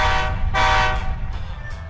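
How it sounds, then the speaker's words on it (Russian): A train horn sounds in Minecraft, a loud sustained tonal blast with a couple of brief breaks and a rumbling low end that fades slightly toward the end. "Это реально поезд был."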